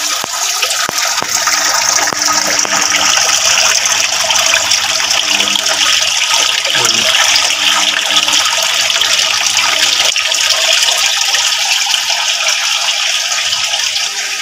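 Water flowing steadily into a catfish breeding aquarium, a continuous loud gushing trickle that holds unbroken throughout, close by and alone.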